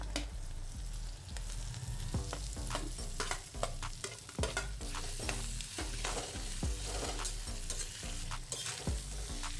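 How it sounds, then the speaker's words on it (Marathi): Cut potatoes fry in hot oil for a potato bhaji with a steady sizzle, broken by frequent sharp scrapes and clinks of a spoon stirring the pan, close and continuous. "आता हे मी कापून घेतलेला बटाटा घालते"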